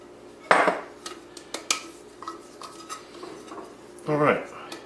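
A metal cake tin for a mini chocolate birthday cake is shaken with a little flour inside. It gives a few bright clattering bursts and taps, with a louder rattling shake near the end.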